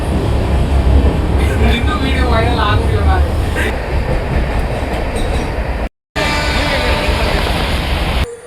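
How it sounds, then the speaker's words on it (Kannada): A train rolls into a busy local station, its loud rumble and clattering wheels carrying up close with some squeal, while people talk over it; the noise cuts out briefly, then returns. "ಫೈನಲಿ ಟ್ರೈನ್ ಬಂತು."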